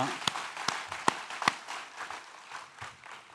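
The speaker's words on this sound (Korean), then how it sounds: "박수를 하나님께 드리겠습니다" A small church congregation claps in worship during a Sunday service, a few sharp scattered claps followed by soft, uneven patter fading out, fairly quiet and close.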